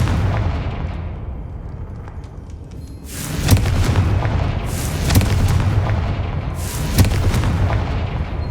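Explosions from the Confringo fire spell in the Hogwarts Legacy video game, three sharp booms at spaced intervals over a low rumbling game backdrop.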